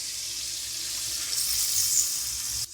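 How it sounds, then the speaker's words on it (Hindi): Water pours steadily into a yogurt masala for Kashmiri dum aloo, a continuous soft splashing hiss that runs unbroken for a few seconds, close by and fairly quiet. "थोड़ा सा पानी इसमें ऐड कर देंगे ताकि सारा मसाला शामिल हो सके"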